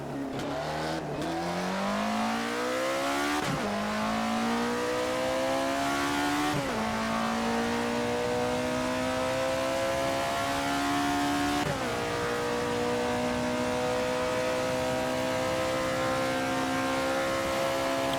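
An Alfa Romeo 33 Stradale in the Assetto Corsa racing game revs hard and loud, its engine pitch climbing through the gears with sharp drops at each upshift, continuous and close.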